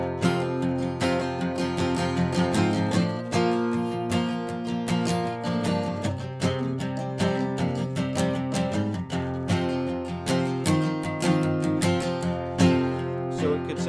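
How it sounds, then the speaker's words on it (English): Rhythm guitar strummed through Man of Constant Sorrow, a steady chord pattern with bright, regular strums played alone throughout, no voice over it. "I'm just going to play through the song for you as your rhythmic guitar player"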